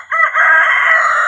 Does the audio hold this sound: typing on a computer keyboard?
no